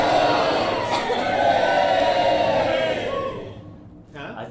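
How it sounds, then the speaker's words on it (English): A large crowd on a battlefield roars and cheers in a loud, sustained swell that fades out, a Syrinscape-style effect. "A great cheer rises up from the battlefield."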